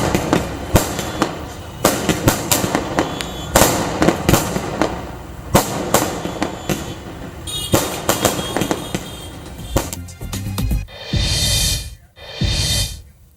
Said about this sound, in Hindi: रोजाना रात 8 बजे यहां पर आतिशबाजी होगी 22 जनवरी तक